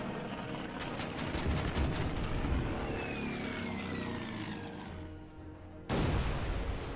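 Torpedo bomber attack on a New Orleans-class cruiser in the wartime Pacific strategy game Order of Battle Pacific, with steady aircraft engine drone, rapid gunfire bursts and a loud explosion near the end, no talk.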